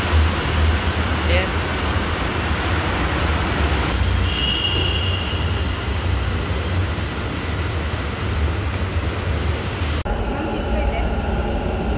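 A Bengaluru metro train runs with a steady rumble of wheels on track and a constant interior hum, with a faint squeal and short tones, heard from inside the carriage.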